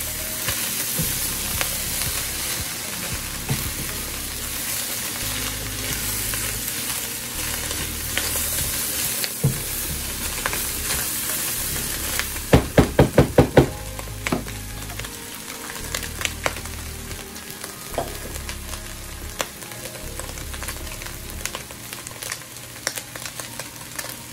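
Dirty rice frying in a pan while being stirred for a few minutes to toast, a steady close sizzle with scraping spoon strokes and a brief burst of sharper clatter midway.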